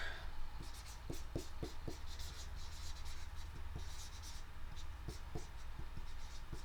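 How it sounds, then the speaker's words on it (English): Chalk or marker strokes on a lecture-hall board: a close run of short scratchy scrapes and light taps in uneven bursts, standing out over a steady low room hum. "So I'm going to write that."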